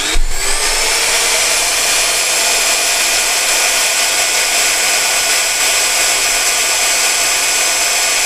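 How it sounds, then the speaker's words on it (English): A Toyota 2ZZ alternator spins up on a test rig, giving a loud, steady mechanical whine with a rising tone at the start that then holds constant and unbroken throughout. "Let's go test the 2ZZ alternator"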